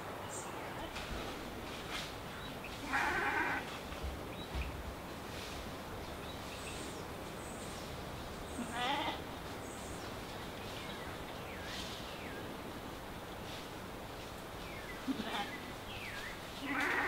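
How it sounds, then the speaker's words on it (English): Sheep bleat in brief bursts near a cocoa tree plantation, with a few distinct calls standing out over steady outdoor rustle and background noise. "Hey sheep, what are you doing?"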